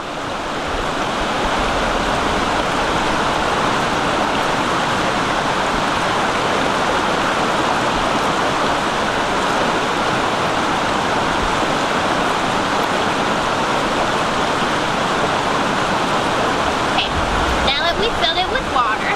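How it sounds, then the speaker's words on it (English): Water running steadily into a plastic Smart Water bottle outdoors on a hiking trail, a continuous rushing pour that stays loud and even throughout, with a brief clatter of handling near the end. "The first thing we're going to do is fill up our bottle with water."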